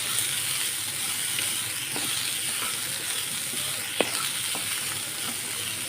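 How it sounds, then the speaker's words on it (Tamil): Finely chopped onions sauté in a pan for kothu paratha, giving a steady, close frying sizzle and hiss throughout, with a single sharp utensil tap partway through. "நான் பொடிசாக 2 பெரிய வெங்காயம் கட் பண்ணி வச்சுருக்கேன். அதை இப்போ இதில் சேர்க்க போகிறேன். இதை நல்லா வதக்கிக்கலாம்."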